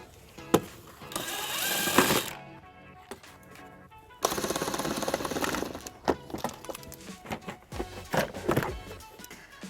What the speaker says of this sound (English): we're going to use a 14mm socket to remove the plastic nuts